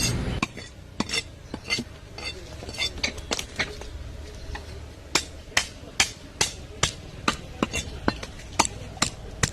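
A knife chopping 5 kg of Alugu fish for curry, sharp knocks on a cutting board that start scattered and then fall into a fast, even rhythm, close and crisp with faint kitchen clatter.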